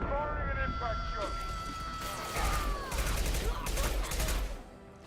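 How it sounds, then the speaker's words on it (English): An impact shot weapon fires in the Mass Effect Legendary Edition video game, with sharp cracks and a concussive burst amid a dense battle mix, while a player talks over the action. "Firing an impact shot."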